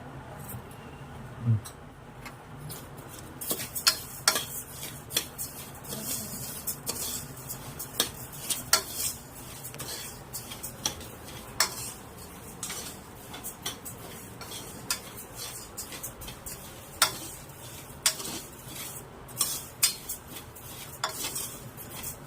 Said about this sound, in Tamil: ஒரு கிளாஸ் பச்சரிசியும் அது கூட போட்டு ரெண்டு நிமிஷம் வருங்க